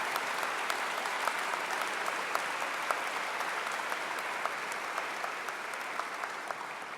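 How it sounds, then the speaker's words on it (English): Applause at a school assembly, a dense, even round of clapping from a large audience, sustained and moderately distant, with no talk over it. "Let's give them a round of applause."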